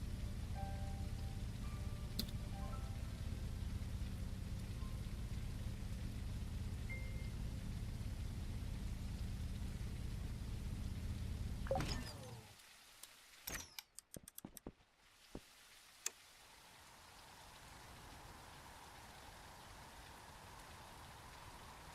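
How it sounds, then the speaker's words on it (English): Rain with fog at nightfall in the survival game Everwind, a steady soft hiss for about twelve seconds that then cuts out, leaving a few faint clicks and a low hum. "Okay, fog and rain, and it's getting nighttime."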